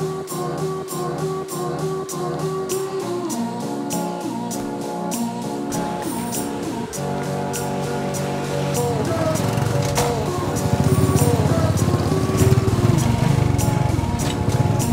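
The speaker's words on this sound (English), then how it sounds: "Alright, so let's tuk-tuk this city," A tuk-tuk ride through the streets of Siem Reap, with a steady small-engine drone running throughout, close and fairly loud, rising slightly toward the end amid traffic noise.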